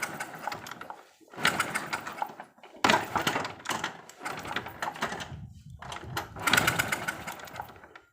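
Honda Supra motorcycle with lost ignition being kicked over: repeated rough mechanical churning strokes in uneven bursts separated by short gaps, close by, with no talking.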